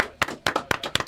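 A small group claps by hand, giving four sharp, evenly spaced claps in about a second, close and fairly loud with no talk.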